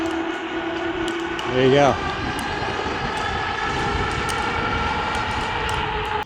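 A dual-motor eBike hums along with its rear hub motor running, then a brief rising whine as the added front motor kicks in, steady electric drone under a short spoken remark and wind noise.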